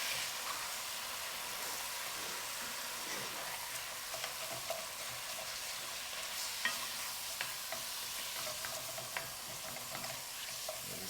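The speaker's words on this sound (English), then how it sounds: "Let me go ahead and get my Spring Hope Farm ground beef sauteed in this pot." Spring Hope Farm 80-20 ground beef sizzles steadily as it sautés with chopped garlic in a pot for chili, with occasional scrapes and clicks of stirring throughout and no talking.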